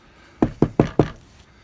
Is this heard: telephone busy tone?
no